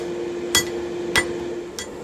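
Hand hammer blows on hot steel as one end of a forged flatter is tapered: three sharp, ringing strikes spaced about half a second apart, clear and close, with a steady hum underneath and no talk.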